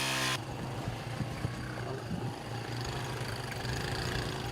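A repaired motorcycle engine runs steadily at idle on a muddy track in Burkina Faso, a low continuous hum with a faint rhythmic throb, close and moderately loud from start to finish.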